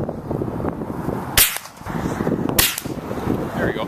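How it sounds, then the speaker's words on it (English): Two sharp pellet-gun shots crack out outdoors, about a second apart, each a brief snapping report over a steady background of rustling and ambient noise. "this one's just a pellet gun."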